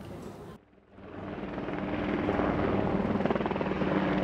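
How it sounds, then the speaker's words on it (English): Three ROK Army Surion helicopters on a memorial flyover at a Korean War commemoration ceremony, a loud rotor roar building up after a short gap and holding as a steady thumping drone. "The event began with the memorial flight by 3 ROK Army Surion helicopters."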